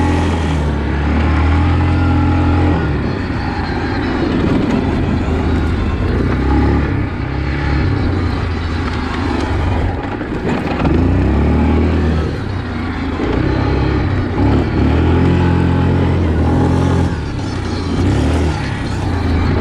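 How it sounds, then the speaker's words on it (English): A 2020 Yamaha Kodiak 450 EPS ATV engine droning steadily on a trail ride, loud and close, with gentle swells and dips in revs as it rolls through turns, no voices. "So here's a quick ride on the Kodiak 450."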